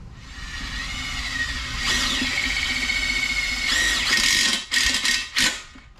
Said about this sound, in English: all I'm doing to mount this is using self-tapping screws